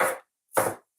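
A knife dicing watermelon strikes a cutting board in crisp, close chops: two separate cuts about half a second apart, then the start of a third, with silence between them.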